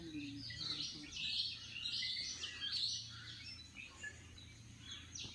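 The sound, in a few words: many birds calling at a viewpoint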